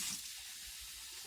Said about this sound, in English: There you go, just cold tap water.